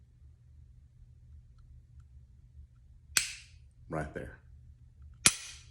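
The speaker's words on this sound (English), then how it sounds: "The trigger's fixing to break. I'm pinning it to the rear. Weapon cycles, and watch the trigger reset." A firearm fires two sharp, loud gunshots a couple of seconds apart on a quiet range, with a short spoken remark between the shots.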